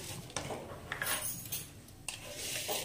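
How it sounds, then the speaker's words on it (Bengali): Sugar going into a pot for hemkona payesh, a Bengali rice sweet: light metallic spoon clinks and small scraping taps against the vessel, close and fairly quiet, with no voices. "এবারে দিয়ে দেবো এখানে চিনি।"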